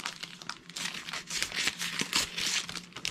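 Stick scraping across a scratch-painting sheet with a tropical design, a continuous dry crinkly scratching made of short strokes, fairly close and steady for the whole stretch with no talking.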